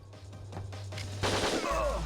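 Shotgun blasts in the game Winback: Covert Operations, a few sharp booming shots with a heavy burst near the end over low game hum.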